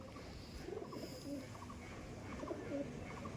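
Madrasi pigeons, short-bodied tournament-quality males, coo in soft repeated rolling calls at close range against a steady background hum, with no talking.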